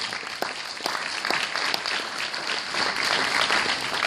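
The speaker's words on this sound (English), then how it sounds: "Give her a round of applause," Audience applause at a scholarship dinner, a sustained round of many people clapping, dense and fairly loud, swelling slightly toward the end, with a faint crowd murmur underneath.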